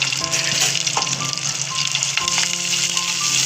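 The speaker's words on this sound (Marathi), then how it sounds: "थोडीशी दालचिनी घेतली आहे ती पण टाकणार आहे आणि लसूण, थोडासा कांदा. आपण ते व्यवस्थित परतून घेऊया." Cinnamon, garlic and onion sautéing in a pan for a Malvani fish curry, a steady close sizzle and crackle of frying with a few faint stirring scrapes and no talk.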